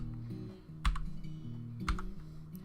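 Steady computer keyboard typing while entering manager orders in Dwarf Fortress, with two louder clacks and tonal game music underneath.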